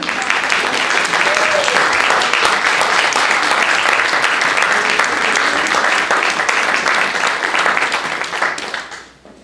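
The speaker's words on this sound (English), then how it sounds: "Will the jury please rise for a well-deserved round of applause?" Sustained applause from a large audience at a book awards ceremony, dense and steady for several seconds before fading out at the end.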